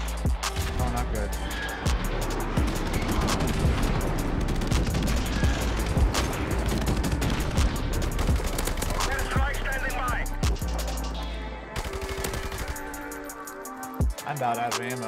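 Rapid bursts of automatic gunfire and scattered shots from Call of Duty Modern Warfare Remastered multiplayer, loud and continuous with voices talking over the shooting.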